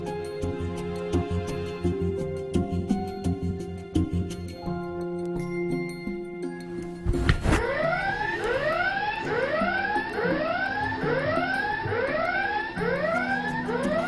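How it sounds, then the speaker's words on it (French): Secrets alarm buzzer in the Secret Story house, a loud electronic alarm that starts abruptly partway through and repeats in rising, wailing cycles over background music. "Et Vivian, pourquoi as-tu déclenché l'alarme des secrets?"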